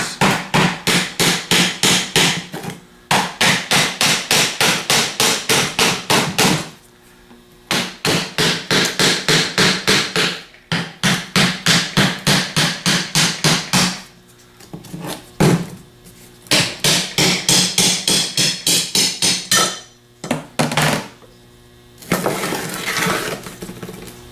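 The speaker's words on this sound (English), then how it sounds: "we just want to kind of tap on the outside edges" Repeated sharp metallic taps strike the outside edges of an aluminum Denso fan housing, coming in fast rhythmic bursts separated by short pauses, close and loud with no talking.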